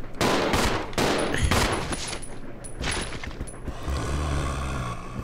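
Rapid bursts of gunfire from the video game Resident Evil Zero HD, loud and dense, with repeated volleys through the first half before settling into a lower rumbling ambience.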